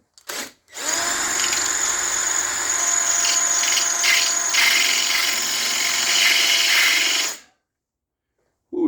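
A power drill with a little cutting oil runs in one sustained, loud, high whine for several seconds, then stops abruptly, with a brief burst just before it starts.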